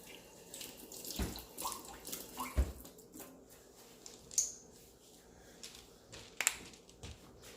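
A few pimento berries rinsed under running tap water in a kitchen, with quiet splashing and trickling broken by several small clinks and knocks, close and fairly soft with no talking.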